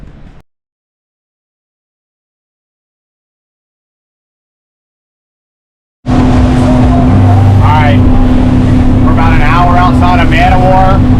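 A motorboat running at about 40 miles an hour on open water between Florida and the Bahamas, with a loud steady engine drone and hull and wind rush after a stretch of silence.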